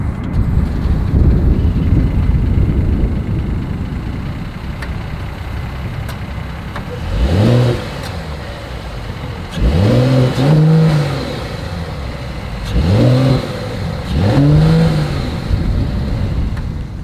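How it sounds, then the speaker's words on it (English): A 2022 Mercedes-Benz E 450 All-Terrain wagon idles steadily, then its exhaust rises through four loud, close revving blips, each climbing and falling back to idle, with no talk. "As always, here is that exhaust clip."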